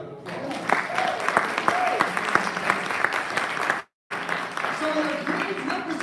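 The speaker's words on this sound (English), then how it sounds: "Give yourselves a round of applause." A summit audience breaks into sustained applause, a steady wash of many hands clapping throughout, briefly cut by a moment of silence before resuming.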